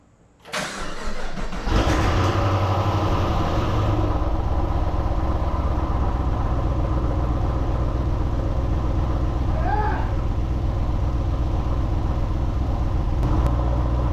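A 2016 Chevrolet SS sedan V8 with a newly installed cam cranks over and fires, then settles into a loud, steady, lumpy idle that rumbles continuously right up close.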